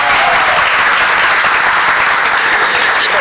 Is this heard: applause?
yes